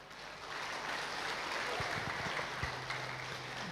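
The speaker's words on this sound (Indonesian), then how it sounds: "berikan aplaus buat kita Bapak Ibu" An audience at a tenth-anniversary event for an Indonesian fried chicken business applauds, a soft, even wash of clapping that swells in quickly, holds steady, and carries on without talk.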